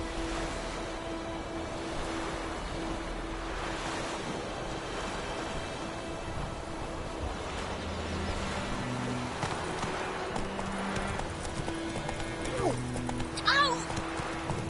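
Horse hooves clip-clopping in The Witcher 3, a steady trotting rhythm under wind and ambient noise, with a voice talking over it.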